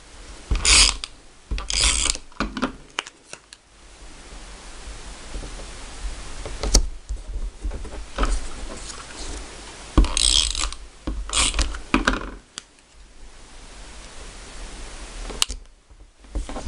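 An adhesive applicator works across paper pieces of a candy corn treat box, giving repeated short, raspy, ratcheting bursts close up, separated by brief pauses, with no voices.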